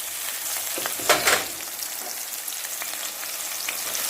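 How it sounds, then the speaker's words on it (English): Onions sautéing in hot oil for Jamaican ackee and saltfish, a close, even sizzle with a short burst of louder crackle as they hit the pan, then a steady hiss. "the oil is hot, so we're going to add first our onions"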